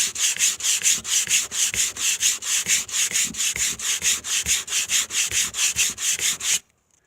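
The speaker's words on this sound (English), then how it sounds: "As you can see, it's sanding down. It's going down pretty smooth." Steady rhythmic sanding, quick back-and-forth scrapes of Gator 220-grit sandpaper sanding down paint, close and loud, about three strokes per second, stopping abruptly at the end.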